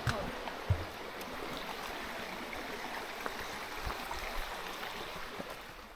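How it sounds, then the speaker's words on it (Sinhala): Clear water stream flowing steadily beside a walking trail near a small footbridge at Badger Weir picnic area, a soft continuous rush with some faint voices nearby. "හැබැයි මේක හෙන පිරිසිදු වතුර පාරක් නේද?"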